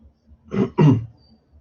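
Two short, close throat-clearing rasps in quick succession, loud and isolated against silence.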